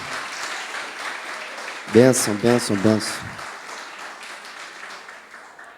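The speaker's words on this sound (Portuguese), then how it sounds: "Vamos aplaudir o Senhor, queridos." A gathering at a lecture applauds the pastor, producing a steady wash of clapping throughout, while a nearby voice calls out a short word three times over it partway through.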